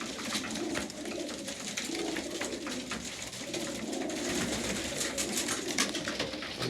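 Racing pigeons coo steadily in a loft while feeding after a three-hour loft fly, a dense chorus of many birds close by with soft wing flutters and scratchy movement throughout, no voices.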